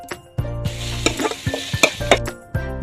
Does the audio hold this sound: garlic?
yes